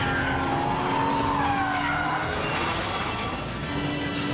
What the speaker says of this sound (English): Applying the power as we go round, skidding out, almost stopping as we turn into the wind.